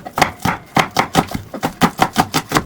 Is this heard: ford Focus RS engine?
no